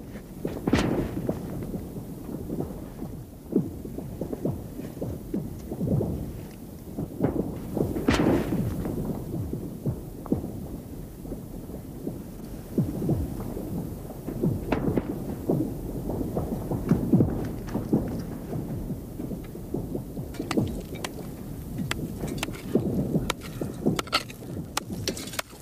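Deep booming and groaning from the frozen ice of Lake Baikal, several resonant thuds and rumbles spread out over a quiet, hollow background.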